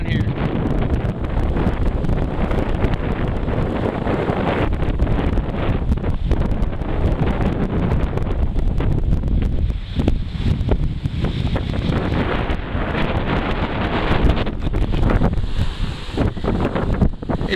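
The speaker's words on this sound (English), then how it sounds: "Now this is going to be pretty windy, so bear with me." Strong wind buffeting the microphone on the red sandstone coast of Prince Edward Island, a loud continuous roar of gusts with surf mixed in.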